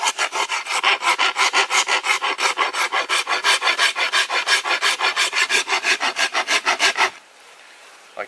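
Steady rasp strokes on a bamboo recurve bow, thinning and bevelling its edges; about thirty even, rapid, close-up scrapes in a continuous rhythm, then stopping abruptly into near silence.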